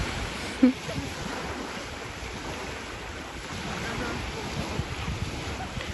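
Sea waves wash steadily onto a beach at Odesa, a continuous broad rush of surf mixed with wind buffeting the microphone, with one brief knock near the start.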